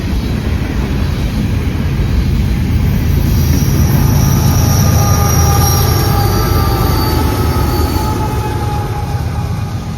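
A freight train rolls past at Austell, a BNSF unit among the locomotives, with loud, steady rumble and clatter of wheels on rails throughout and high wheel squeal rising in the middle, close by and alone.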